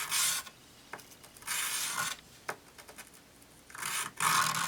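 Sandpaper rasps lightly across a Glock striker, giving a series of short, close scratchy strokes separated by brief pauses, with no talking.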